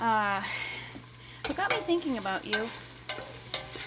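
Food sizzles in a pan during dinner preparation, with occasional stirring scrapes running quietly beneath someone talking in the foreground.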